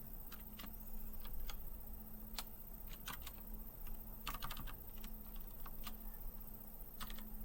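Someone types on a computer keyboard at a quiet, uneven pace, with soft clicks in short runs over a low, steady hum.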